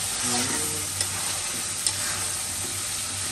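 Biryani frying and being stirred in a pot at home: a steady loud sizzle fills the scene, with faint scraping stirs and a couple of soft clinks, no talk.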